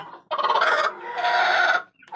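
A hen nearby lets out two loud, drawn-out clucking calls, with a short pause between them.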